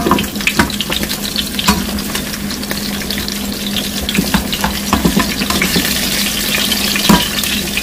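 Onions fry loudly in a pan for a gravy, a dense continuous sizzle with occasional sharper crackles and spatula scrapes, close and alone without talk.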